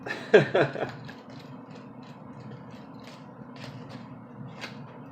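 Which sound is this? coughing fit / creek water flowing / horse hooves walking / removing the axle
removing the axle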